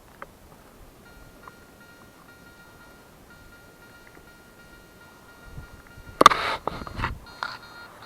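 A faint electronic tone hums softly before a burst of sharp, wavering beeps from a Garrett metal detector sounds up close for a couple of seconds.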